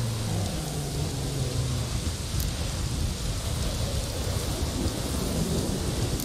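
Heavy rain pours steadily in a thunderstorm in The Witcher 3 video game, a dense, loud, continuous wash with a low rumble of thunder beneath it.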